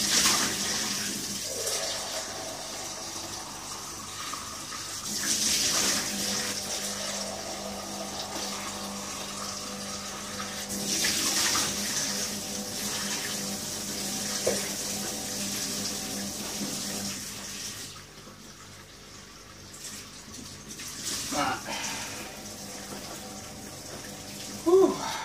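A kitchen tap runs while a small jug is rinsed out, giving steady splashing water that shifts in pitch and loudness, briefly drops away, then resumes, fairly close.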